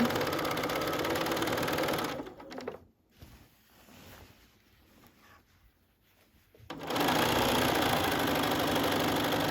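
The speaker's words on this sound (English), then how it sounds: "I like to go a little bit slower over those seams as to not break a needle and or jam your thread." Sewing machine stitching across the thick seams of a tote bag gusset, a steady mechanical whir that drops out briefly in the middle and then resumes at full strength.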